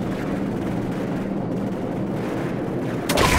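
Heavy cannon fire rumbles in a Call of Duty Modern Warfare combat mission: a dense, continuous low boom and roar, ending in a sharper burst.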